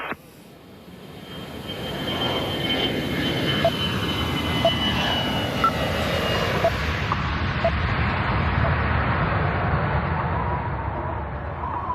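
Steady, loud airliner cabin roar while cruising at around 32,000 feet on autopilot, a broad continuous rushing hum that holds evenly throughout with faint scattered ticks.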